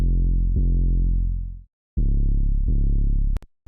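An 808 sub bass from a Serum preset sounds alone as deep, sustained booming notes, a long tone fading out, then two more hits following a kick-drum rhythm, ending abruptly.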